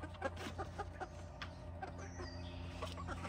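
Three backyard hens perched on a person's leg give soft, intermittent clucks and short calls, close by over a low steady background hum.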